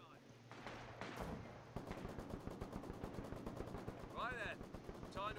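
Machine gun fire in Company of Heroes 2, a steady rhythmic stream of rapid shots rattling on for several seconds, with other battle noise and brief chirping game sounds layered over it.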